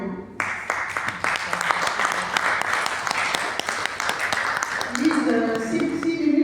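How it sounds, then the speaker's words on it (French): Audience applause for Madame Lise Fagnan at an event, a steady wash of clapping with sharp individual claps that carries on for several seconds, while a voice joins in toward the end. "Je vous demande d'applaudir Madame Lise Fagnan"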